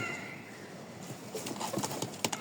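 Rajshahi Giribaz and teddy pigeons coo nearby, with soft rustles and sharp flutters or clicks becoming busier toward the end.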